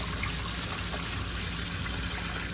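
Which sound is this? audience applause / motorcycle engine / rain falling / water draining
water draining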